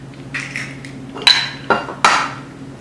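Two eggs are cracked into a mixing bowl with vegetable oil for box cake cookies, several close sharp taps and knocks against the bowl, three distinct cracks ringing out over a quiet hum.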